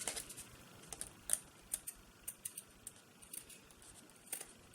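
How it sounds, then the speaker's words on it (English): Scissors snip along the edge of lace that has been glued down with craft glue, making a string of faint, quick clicks and cuts in a quiet room. "I've just cut a piece and glued it down with some craft glue. And I'm just going to trim it."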